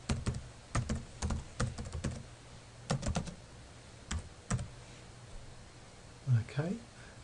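Someone types on a computer keyboard: close, crisp clicks in quick irregular bursts with brief pauses, and a voice is heard in places.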